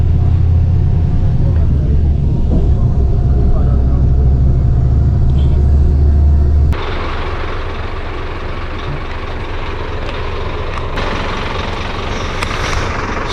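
Interior of an old-model Scania bus driving in Namibia: a loud, steady low engine rumble that drops to a quieter road hum partway through, with faint rattles over it.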